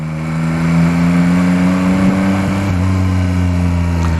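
A Yamaha Tracer 9 GT motorcycle engine runs at light throttle with a steady, smooth hum that holds an even pitch, close and continuous with no talk.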